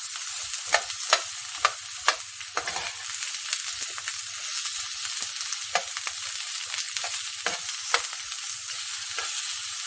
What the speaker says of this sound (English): now that the oil's heating up, I'm going to add the onion and mix that